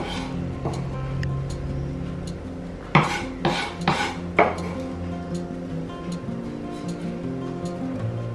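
A spoon scrapes cooked garlic and herbs from a pan into a bowl of vegan soft cheese, a short burst of four or five metallic scrapes and clinks midway, close, against quiet kitchen background.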